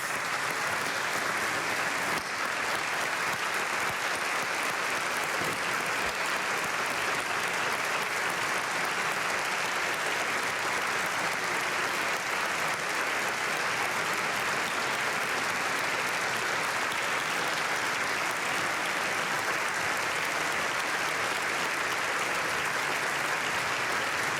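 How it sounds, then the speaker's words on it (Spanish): Sustained standing applause fills a parliament chamber at the opening of ordinary sessions, a dense, steady wash of many hands clapping at even loudness throughout with no speech over it. "les pido por favor que nos pongamos de pie y brindemos un sostenido aplauso"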